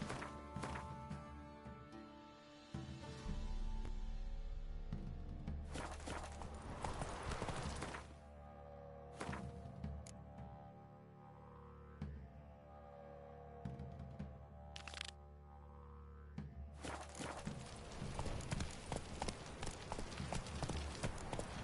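Horse hooves clip-clop in uneven bursts in The Witcher 3: Wild Hunt, with occasional sharp thunks and cracks, over a backdrop of game sounds; no voices heard.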